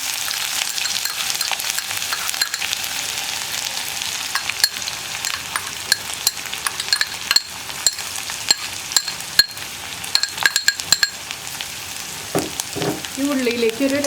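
Crushed shallots and garlic frying in hot oil with dried red chillies for Kerala-style parippu thoran make a steady crackling sizzle, dotted with sharp pops and spatters and occasional stirring clinks.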